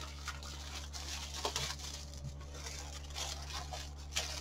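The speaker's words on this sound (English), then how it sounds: "Mind the crinkling sound" Packaging around an art statue crinkles and tears during unboxing, soft close rustles and a few sharper crackles over a steady low hum.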